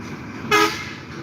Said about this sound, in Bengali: হর্ন দিয়ে দিয়ে অন্ধকার কুয়াশার ভিতরে চলছে খুব কষ্ট করে ট্রাক মোটর সাইকেলগুলো খুব কষ্ট করে চলছে